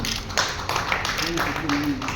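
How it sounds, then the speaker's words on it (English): Clapping from an audience at an award ceremony, a loose patter of hands that sits under a voice speaking and a faint tonal sound. "A round of applause for Mr. Ghaziabad."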